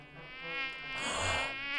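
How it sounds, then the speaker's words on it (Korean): An autumn mosquito buzzes close by in a continuous whining drone that swells louder in the middle before easing slightly, with no other sounds. "뭐야 이게 모기?"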